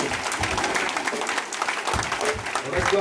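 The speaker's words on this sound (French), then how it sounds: "Est-ce qu'on peut acclamer Jésus?" Church congregation applauding and cheering for Jesus, dense continuous clapping from a large crowd with voices mixed in, loud and close throughout.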